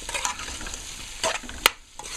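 Masala frying in a pan while being stirred for an eddoe and shrimp curry, a soft close sizzle broken by a few sharp scraping strokes of the spoon.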